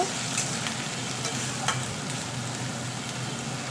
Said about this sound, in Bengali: এঁচোড়টা দিয়ে ভালো করে কষাতে হবে